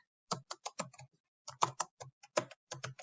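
A computer keyboard tapped in two quick clusters of crisp, close keystrokes, separated by a brief pause, in an otherwise quiet room with no speech.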